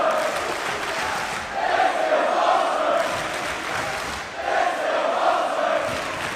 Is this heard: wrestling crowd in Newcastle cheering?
yes